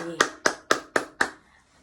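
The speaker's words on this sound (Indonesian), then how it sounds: "Tepuk tangan buat Fitri." Five quick, evenly spaced hand claps from children in a classroom, fairly close, then silence.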